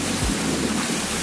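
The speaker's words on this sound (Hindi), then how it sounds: "और अभी भी गर्जना सुनाई पड़ रही तुम्हें," Heavy monsoon rain pours down loudly and continuously in a rural village with flooded fields, a deep thunder rumble rolling underneath near the start.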